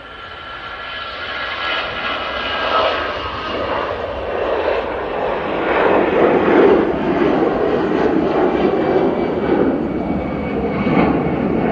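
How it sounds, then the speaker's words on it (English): A Ryanair airliner departing Manchester Airport for Dublin roars steadily with broadband jet engine noise, building slightly and holding loud and fairly near throughout, with no voices. "And next out will be the Ryanair going to Dublin."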